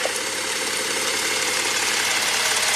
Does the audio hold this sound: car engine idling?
yes